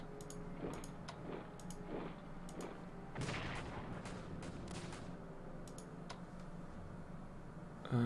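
Artillery fire in the World War I strategy game Strategic Command sounds as a series of faint, sharp booms and crackling volleys, spaced unevenly over a quiet background.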